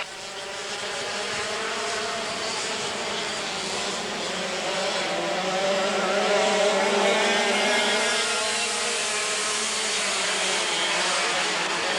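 Dirt karts at a 1996 race pull away from the start in a loud, continuous pack, engines droning and rising steadily together without pause.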